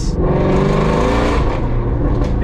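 Harsh, loud exhaust from a catless-midpipe Ford GT350 fills the air in a sustained revving roar, close and unbroken by any talk.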